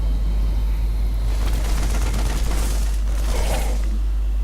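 Siege tank 90mm cannon fire in the StarCraft II video game, heard as a couple of dull booming blasts over a constant low rumble of battle noise.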